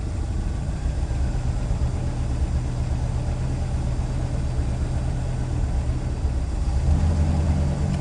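A 1967 Lincoln engine idles steadily with its newly finished exhaust, a low, even rumble throughout that swells slightly louder near the end.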